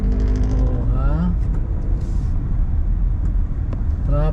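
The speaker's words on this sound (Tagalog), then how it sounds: "Traffic." Heavy road traffic on a congested highway south of Manila, with engines and tyres rumbling close by and a bright passing whine. A voice talks briefly at the start and again near the end.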